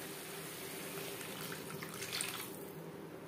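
Water that was used to rinse spices is poured into a pan of Tel Koi fish curry, giving a soft, continuous splashing trickle that stays faint and close throughout.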